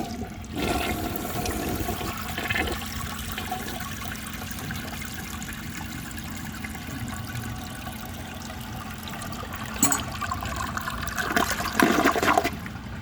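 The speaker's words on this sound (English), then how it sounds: "So I'm gonna go ahead and give it another flush and see how much of that it can remove." A 1957 Gerber Mt Vernon toilet flushes with a loud rushing surge at the start, settles into a steady trickling refill, then gives a second burst of rushing water near the end.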